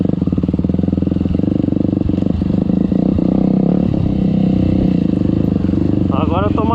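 Trail motorcycles ride together at a trail club meet, a loud close engine drone with rapid pulsing and rising revs, with people talking over it.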